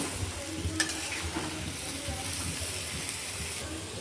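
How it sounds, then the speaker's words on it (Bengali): Fish curry with eggplant is stirred in a pan on the stove. Continuous frying sizzle runs under a busy, scraping, clattering spatula rhythm close by, with one sharper knock early on. "এখন আমি নাড়াচাড়া দিয়ে তারপরে হচ্ছে রান্নাটা করে নেব।"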